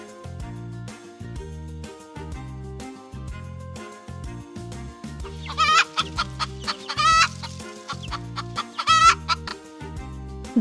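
Chickens on a farm cluck repeatedly in short rhythmic bursts, close and clear, over a steady looping musical backing.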